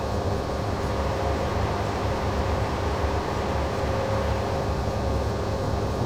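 A diesel locomotive hauls a train of tank wagons past in the Simrail train game, a steady rumbling roar with broad noise that stays loud and even throughout, with no voices.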